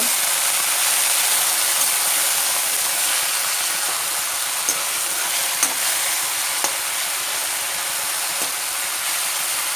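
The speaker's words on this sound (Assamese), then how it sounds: "এয়া চব শেৱালি ফুলখিনি সিজিব ধৰিছে।" Sewali (night jasmine) flowers fry in a pan with salt and turmeric, giving a steady close sizzle with a few light scrapes and taps of stirring, alone with no voices.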